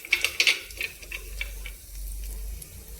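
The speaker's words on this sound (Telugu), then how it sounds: "కొంచెం వేగాక ఎండుమిరపకాయలు వేద్దామండి" Dried red chillies frying in hot oil, a few sharp crackling pops up front giving way to a steady, soft sizzle with a low rumble underneath, close by and with no talking.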